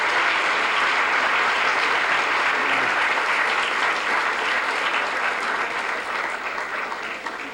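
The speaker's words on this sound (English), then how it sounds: "Let's give Professor a big, big round of applause." A large audience gives a professor a big round of applause after a talk on presidential debates, loud dense clapping holding steady for several seconds, then slowly thinning and fading toward the end.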